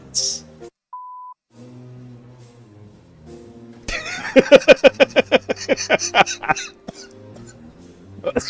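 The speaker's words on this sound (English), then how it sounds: "the random beep was amazing" A short electronic beep sounds once near the start of a livestream, followed by a run of loud, rhythmic coughing or throat-clearing bursts with speech nearby.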